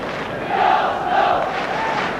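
A large football crowd at a Luton versus Arsenal match keeps up a steady, distant roar, with swelling chants rising and falling throughout.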